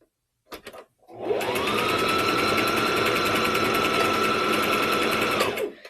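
A sewing machine runs steadily for about five seconds while stitching a pillow, its loud, even motor whir and rapid needle clatter close by, after a couple of brief starting clicks.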